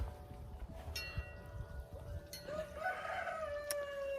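Three backyard chickens cluck and squawk nearby, with a drawn-out crowing call rising through the middle and end over low outdoor background noise, heard without talk.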